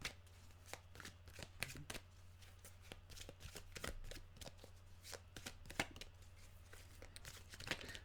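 Tarot cards are shuffled by hand, giving a quiet run of crisp riffling snaps and flutters in quick, uneven bursts over a faint low hum, with no talking.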